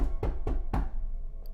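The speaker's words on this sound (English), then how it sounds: "The knocking came back harder than before." Three heavy knocks on a door, evenly spaced about a quarter second apart, loud and close, then a brief quiet tail with no voices.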